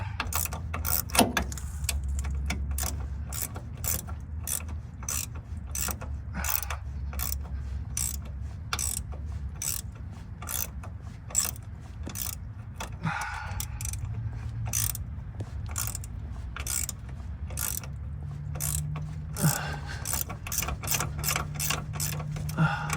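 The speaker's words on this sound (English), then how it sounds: "is to break them loose, tighten them back on again, and sort of like clean the treads as you're taking them out." A ratchet works bolts loose and snugs them back on a 1977 VW Westfalia transmission, giving a long run of close, crisp clicks in quick, steady bursts over a low background hum.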